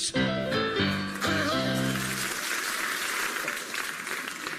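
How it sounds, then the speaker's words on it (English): An audience breaks into steady applause after a song, the claps swelling in as the last sung notes fade out, then continuing evenly on their own. "They clapped."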